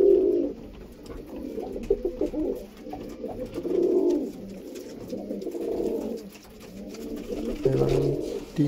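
A mated pair of adult breeder pigeons with pearl-type eyes coo repeatedly nearby, low burbling phrases rising and falling in steady waves over several seconds.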